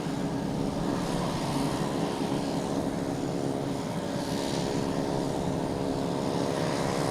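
A JetBlue airliner at Boston Logan Airport gives a steady, broad roar of jet engines from some distance. It holds at an even loudness the whole time, with no voices.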